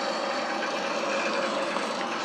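Simulated EL AL 737-800 airliner engines at full takeoff thrust, a loud, dense, unbroken roar with a broad hiss that holds steady throughout.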